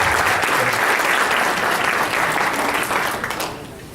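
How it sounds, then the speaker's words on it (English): An audience at an open government symposium in Douglas County applauds loudly and steadily, a dense roomful of clapping that tapers off slightly at the end. "We can give everyone a round of applause for coming."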